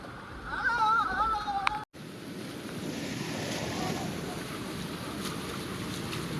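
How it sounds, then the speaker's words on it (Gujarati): Strong wind sweeps across Datar Hills near Girnar in Gujarat, a steady broadband roar and rush that briefly cuts out, then continues evenly at the same level, with faint tonal sounds early on. "અહીંયા પવન એ રીતના ઉપડી ગયો છે"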